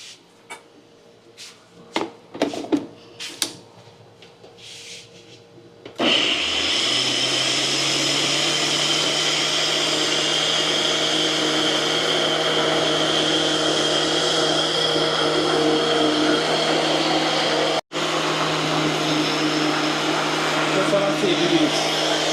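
A few clatters and knocks, then a blender starts and runs loudly and steadily, briefly cutting out near the end before resuming.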